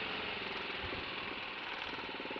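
A motorcycle engine idles close by with a steady, rapid chugging rumble that holds throughout.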